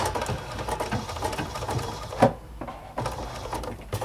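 A sewing machine fitted with a flat felling foot stitches napkin fabric in reverse, a soft, rapid mechanical whirring with a brief louder clack midway, fairly quiet and close.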